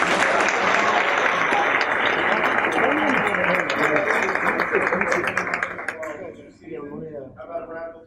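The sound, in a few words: audience applause for the wrestling team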